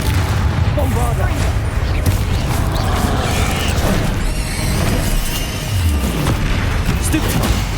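Bombarda spell blasts in Hogwarts Legacy combat on hard difficulty, dense booming impacts and crackling effects packed into a loud, busy game mix with a voice calling out spells.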